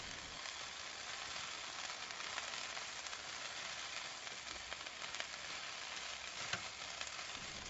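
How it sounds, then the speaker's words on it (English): Cheese and basil leaves are stirred into a mixture in a hot pan, giving a steady close sizzle with faint scraping strokes of the spoon and no talking. "And then I'm just going to stir to combine."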